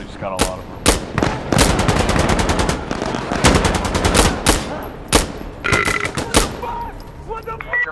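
Rapid bursts of gunfire from the video game Insurgency Sandstorm ring out loudly in repeated volleys and single sharp shots across the whole stretch, with voices calling out between them.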